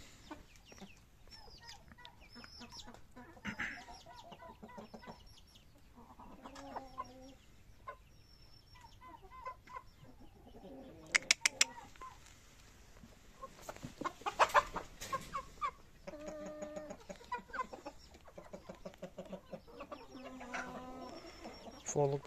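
Chickens and roosters cluck and murmur in scattered bursts nearby at evening by their coop, with a few sharper calls rising over a quiet farmyard background.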